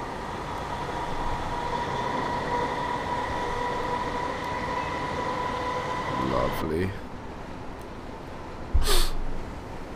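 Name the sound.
Class 321 electric train accelerating, Train Simulator 2015 video game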